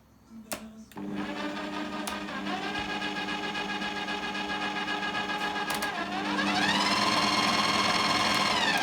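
A Bosch MUM5 stand mixer motor starts after a click and settles into a steady whine, then ramps up to a higher, louder pitch near the end and keeps running.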